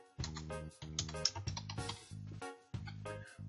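Fingers type on a computer keyboard while working in PowerPoint 2010: quiet, close keystroke clicks come in short uneven clusters over a faint low hum, with no voice.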